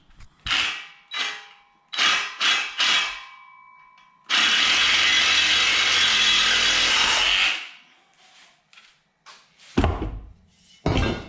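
A power saw cuts through metal strut material meant for an electrical service mast, one loud, steady cut of about three seconds. Shorter knocks and handling sounds come before and after it.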